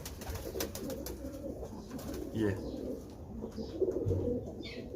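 Rampuri pigeons coo in low, rounded bursts close by, with faint chirps and soft background rustle; a voice says a brief word.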